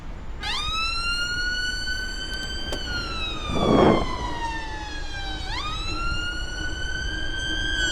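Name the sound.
emergency vehicle sirens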